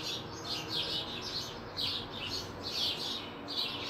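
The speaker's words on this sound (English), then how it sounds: "So I have to make my peace with the birds around me" Birds chirp outside in a steady chorus of repeated tweets, moderately distant, with a low background hum and no talk.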